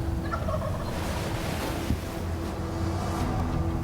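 Wild turkey tom gobbling faintly in the distance during an Ontario spring hunt, a short rattling call rising out of steady wind and outdoor rumble.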